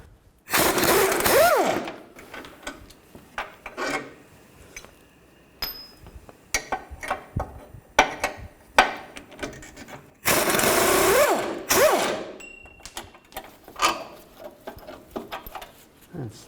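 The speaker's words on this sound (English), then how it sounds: "I'm just going to take these two bolts out, and there's nuts on the back side, and use a 21mm wrench on the back, and a 21mm socket on the front." A ratchet with a 21mm socket works the bolts on a 2000-2006 Chevy Tahoe during an oil pan replacement: two bursts of rapid clicking, with scattered metallic clanks and handling noises between them.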